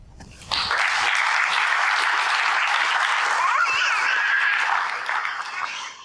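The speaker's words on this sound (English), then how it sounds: "We get applause from the next generation." An audience at an academic conference celebration bursts into applause, a sudden loud, steady wash of clapping that runs for about five seconds and then begins to thin out.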